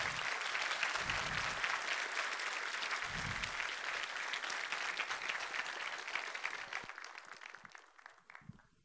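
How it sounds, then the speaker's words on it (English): Full conference-hall audience applause after a C++ programming talk, steady and loud before thinning out and fading near the end, with a few low bumps of voice early on. "Chandler deserves a second round of applause"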